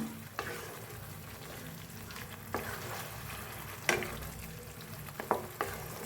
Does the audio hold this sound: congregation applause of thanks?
no